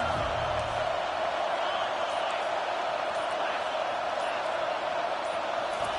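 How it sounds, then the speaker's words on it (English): A stadium crowd at an American football game roars continuously as the home fans try to help their defense, a loud, unbroken wash of noise with no distinct claps or shouts standing out. "Listen to this crowd just shaking the girders of this place, trying to help their defense."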